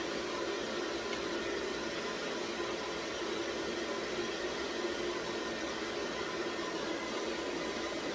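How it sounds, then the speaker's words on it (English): A blow dryer blasts hot air onto a beard while it is combed, giving a steady, loud, even whoosh of airflow with no breaks from start to finish, held close. "I'm keeping the blow dryer in one hand and I'm keeping the comb in one hand."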